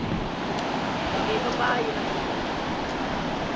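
Broad, constant roar of large ocean waves on a beach, steady and loud with no clear breaks, while a voice speaks briefly over it.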